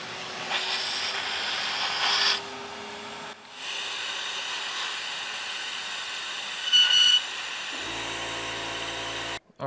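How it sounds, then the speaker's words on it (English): Compressed air blasts into an engine intake in several loud, steady hissing bursts with short pauses between them. The blasts are close and harsh, and the last one cuts off abruptly. "I just blasted everything out with air"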